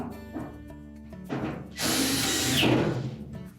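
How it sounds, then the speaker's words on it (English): A power screwdriver drives a screw back in to fasten the corrugated drain hose on a Whirlpool washer, with short whirring bursts followed by a longer, louder run up close. "Line up the screw hole and reinstall the screw."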